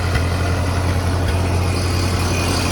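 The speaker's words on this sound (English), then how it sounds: "That clattering is that fan is just barely touching that bracket." A Ford 8N tractor engine idles steadily up close with the PTO engaged, a low continuous drone with a light rhythmic clatter from the fan barely touching its bracket.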